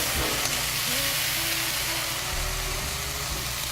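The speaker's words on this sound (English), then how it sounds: "we're ready to add the sauce to the cast iron skillet" Sauce hits a hot cast iron skillet with a continuous broad sizzle and hiss, close and fairly loud, with a low rumbling undertone.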